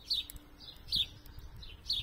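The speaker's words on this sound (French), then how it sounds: "Vous entendez un peu les oiseaux qui sont au-dessus de ma tête" Small birds chirp overhead in a countryside setting, a few short high tweets repeating at roughly one-second intervals, faint over a low background rumble with no talking.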